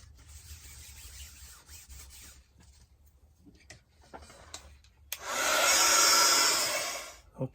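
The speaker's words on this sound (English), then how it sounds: "heat gun." A heat gun roars on close by for about two seconds, drying layered mixed media art, after quieter rustling and handling sounds at the bench.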